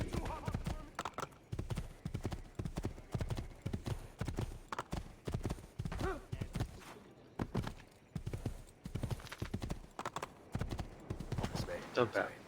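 Horse hooves clip-clopping rapidly and steadily in Assassin's Creed II, with a whinny mixed in, heard close under continuous talking voices throughout.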